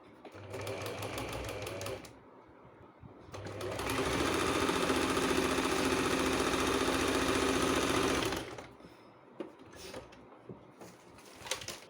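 A sewing machine runs in two bursts while a sleeve is stitched: a short run, a pause with faint handling noise, then a longer steady whirring run, close by.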